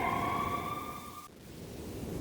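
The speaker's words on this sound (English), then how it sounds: "I could hear the sirens. Their wail was a crescendo." Police sirens wail in the Max Payne video game, a couple of steady tones holding for about a second before cutting off abruptly, leaving a low rumbling ambience behind.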